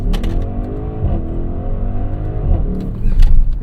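A 2025 Audi SQ7 launches and pulls hard from a standstill, its engine note rising steadily in pitch, loud and close from inside the cabin, with a burst of louder noise near the end.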